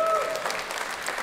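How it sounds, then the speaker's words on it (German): Brief, soft applause from a church audience, a short patter of clapping at low level following a tonal note at the start. "Danke für den zarten Applaus"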